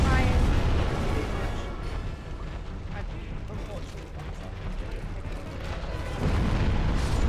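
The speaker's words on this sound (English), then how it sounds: "Explosion." Explosion in Dark Souls Remastered, a heavy booming blast that opens loud, fades into a rumbling tail and swells again near the end, with a voice talking over part of it.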